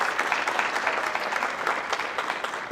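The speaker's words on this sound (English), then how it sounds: "So, round of applause, that was all you guys." Party crowd at a charity relay kickoff event claps in a steady, dense round of applause, fairly close and continuous with no talk over it.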